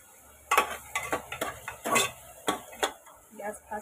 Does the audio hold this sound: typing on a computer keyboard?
no